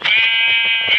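A goat lets out a single loud, close bleat lasting about a second, a wavering nasal cry with no other sounds around it.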